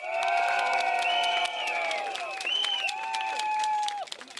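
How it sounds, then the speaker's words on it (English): A rally crowd at a Singapore GE2025 Singapore Democratic Party election rally breaks into applause and cheers, a loud, sustained wash of clapping with shouts and whistles that holds for about four seconds before tapering off. "Please give yourself a round of applause"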